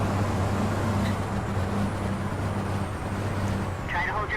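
A Mack racing truck in an FIA European Truck Racing Championship video game holds a steady, loud engine drone with a deep, even hum throughout, and a brief brighter whoosh near the end.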